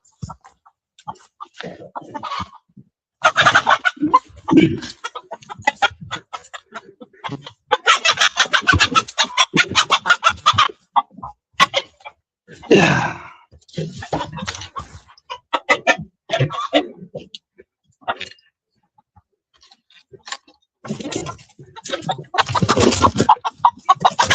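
Chickens around a backyard coop cluck in irregular bursts, loud and close, with several pauses and someone talking in between.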